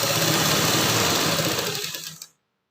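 A domestic sewing machine runs steadily while stitching the side seam of a pair of pants, a loud, close, continuous mechanical whir that tapers off and stops after about two seconds.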